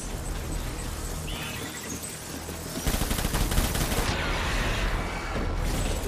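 Gunfire from a gun in the video game Death Stranding: rapid bursts of shots that grow dense and loud after a quieter stretch, continuing steadily to the end.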